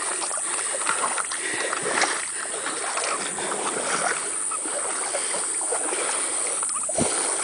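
Floodwater rushes through a flooded farm beside a riding arena, a steady broadband wash of flowing current with splashing, continuous and fairly close, with no voices.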